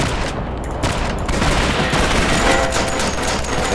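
A loud, continuous barrage of overlapping gunshots in the video game Cortex Command, a dense and steady roar of fire from start to finish.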